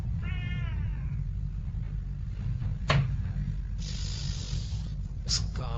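A cat gives one short, wavering meow near the start, followed by quieter clicks and knocks against a low indoor rumble in a dubbed horror film scene.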